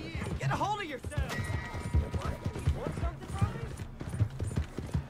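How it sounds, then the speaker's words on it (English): Horse hooves clip-clop in a steady rhythm in Red Dead Redemption 2, close and clear, mixed with harness rattle and game sounds while someone talks over them. "Slow down, horses, slow down."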